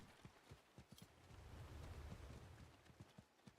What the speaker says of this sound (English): I don't like my clicky horse.